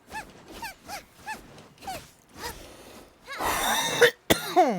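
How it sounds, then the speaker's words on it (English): A person with a bad chest cough lets out a string of about seven harsh, rhythmic coughs close up, followed by a rustling burst and a sharp throat-clearing sound. "I apologize about my really bad cough tonight."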